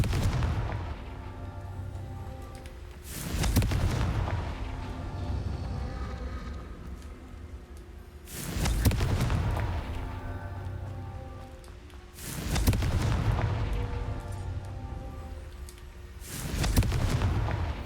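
Confringo fire spells from the Hogwarts Legacy video game burst in four loud, heavy booms, each followed by a rumbling, crackling tail, evenly spaced a few seconds apart over a steady low background.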